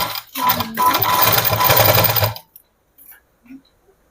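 A sewing machine stitches the neck band of a nighty, running in one steady loud burst of about two seconds, then stopping, leaving near silence with a few faint ticks and handling noises.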